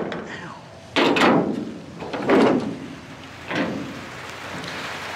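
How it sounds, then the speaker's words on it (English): A shed door is forced open in the rain, making three separate heavy rattling thumps about a second apart, each fading out, against a background of steady rain patter. "And I can't get the shed door open."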